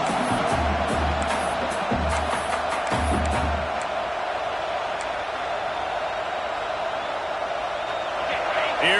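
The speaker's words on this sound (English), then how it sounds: "this crowd is turning it up a notch" A stadium crowd in a football video game keeps up a steady roar of cheering, and a commentator speaks over it early on.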